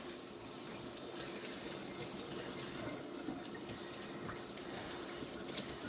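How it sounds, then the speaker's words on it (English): Cool tap water runs steadily over farm-raised cured bacon as the salt is rinsed off, a continuous close splashing hiss from beginning to end with no voices. "You want to do it on cool water and give it a good rinse"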